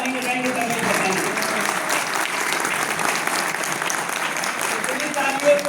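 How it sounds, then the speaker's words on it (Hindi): Loud, steady applause from an audience at a motivational speaking event in a Lucknow hotel hall, many hands clapping together for several seconds. "एक बात जोरदार ताली बजाएंगे तब मैं बताऊंगा"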